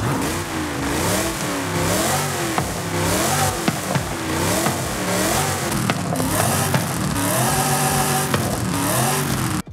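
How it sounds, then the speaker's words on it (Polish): Virtual 1967 Shelby GT500 with a 7-litre V8 in a racing video game, revving hard in repeated rising and falling sweeps, loud and close throughout with no talking. "Posłuchajmy jeszcze, jak brzmi ten silnik na innych wydechach."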